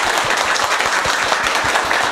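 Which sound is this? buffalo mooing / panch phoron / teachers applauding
teachers applauding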